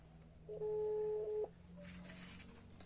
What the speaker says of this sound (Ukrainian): Він що не бачить, що я йому дзвоню.